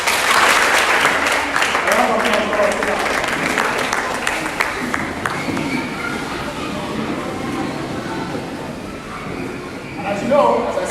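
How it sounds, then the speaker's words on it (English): An audience at a Rotary Club basic education and literacy event claps along to a children's sing-along, with a busy crowd wash of clapping and voices that stays steady and dense, ending in a brief louder swell. "clap your hands"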